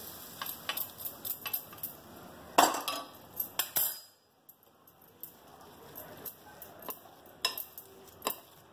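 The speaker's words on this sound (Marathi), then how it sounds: "हे सारखं कालवून घेऊ." A spoon stirs tempered ambe dal (raw mango lentils with garlic tempering) in a pot, giving scattered metallic clinks and taps with a brief louder scrape, no talk.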